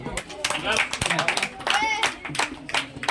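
Children at a birthday celebration clap steadily through a close, lively crowd, with voices and some tonal sounds mixed in with the applause.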